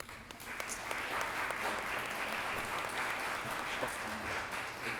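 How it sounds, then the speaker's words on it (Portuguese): A room of attendees at a CASACOR Rio design show event claps together, a steady, moderately distant spread of applause holding evenly for several seconds with no talk. "com os nossos aplausos"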